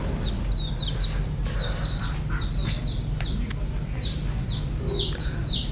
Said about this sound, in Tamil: இங்க பாருங்க, கோழி குஞ்சு இருக்குங்க.